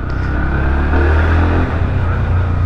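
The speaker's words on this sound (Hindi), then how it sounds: "इंजन थोड़ा सा ऐसे लाउड लग रहा है बिकॉज ऑब्वियसली 160 है" A Bajaj Pulsar NS 160 motorcycle engine revs and accelerates, loud and close, with a strong low droning roar that holds steady and dips briefly partway through.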